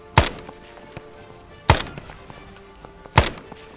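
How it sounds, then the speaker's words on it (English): Gunshots in the video game Arma 3, set in the SOG Prairie Fire setting: three sharp, loud single reports about 1.5 seconds apart, each with a short echoing tail over quiet background noise. "All I hear is gunshots just flying around me right now."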